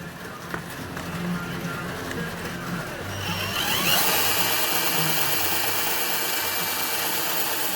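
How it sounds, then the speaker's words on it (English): A power drill whines steadily, its pitch climbing and growing louder partway through as the 5/16 bit bites into the metal of a Chevy 2500 truck cab, close by. "I put a piece of tape over everything I drill"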